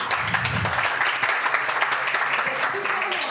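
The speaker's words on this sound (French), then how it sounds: "vos applaudissements nourris" A conference round table audience applauds as a guest is called to the stage, giving steady moderate clapping throughout with a faint voice and room noise underneath.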